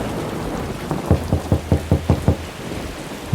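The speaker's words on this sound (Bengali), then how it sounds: "মুষলধারে বৃষ্টি" Heavy downpour in a Bengali horror cartoon: steady, even rain hiss throughout, broken by a quick run of about eight low rumbling thuds in the middle, with no voices.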